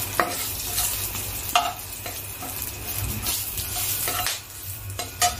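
Bay leaves and whole garam masala (cinnamon, peppercorns, cardamom, cloves) are stirred in hot oil, with a steady sizzle and repeated sharp scrapes and taps of a spatula against the pan.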